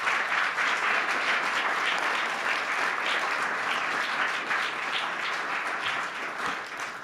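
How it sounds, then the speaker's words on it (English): Audience at the GFFA 2025 expert panel applauding its four speakers, dense even clapping held steady throughout and tapering slightly at the end, with no voices over it. "Please give first a big round of applause to our 4 speakers here."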